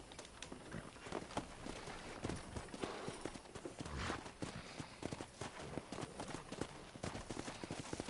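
Hooves clip-clop steadily and quickly, like a horse trotting on hard ground, with a constant busy background of game sound from Red Dead Redemption on PS5.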